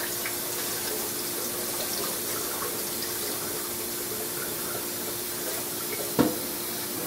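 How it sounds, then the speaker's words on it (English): Tap water runs steadily while barley is rinsed in a pot, a constant close hiss and splash with a brief clunk near the end. "So I'm going to rinse my barley."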